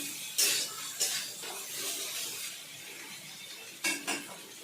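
Ghugni being stirred in a pan, a soft continuous scraping and gentle sizzle with a few louder spoon scrapes near the start and end; no voices.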